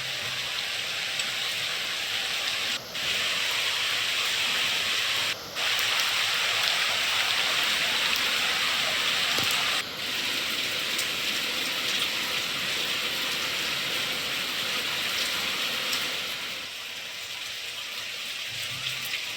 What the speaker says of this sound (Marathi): रायगड आणि नंदुरबारमध्ये अवकाळी पावसाने हजेरी लावलेली आहे।